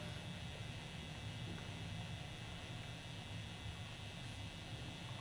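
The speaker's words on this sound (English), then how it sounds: "we hear an airplane outside right now" An airplane flies overhead outdoors, heard as a faint, continuous low rumble that holds steady throughout with no talking.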